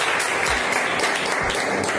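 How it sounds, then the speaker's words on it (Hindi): Applause from an audience at a business meeting, a dense continuous wash of clapping heard from a distance and fairly faint. "एक बार जोरदार ताली हो जाए"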